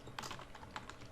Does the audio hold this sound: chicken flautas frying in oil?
no